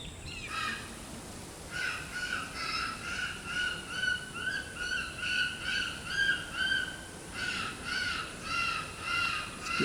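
Several crows caw in a steady, rhythmic series of harsh calls that carry from a moderate distance across an open outdoor area, with a brief pause partway through before the cawing resumes.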